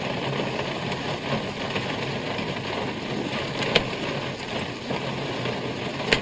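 Steady broadband hiss of rain falling, continuous and even throughout, with a couple of brief sharp ticks.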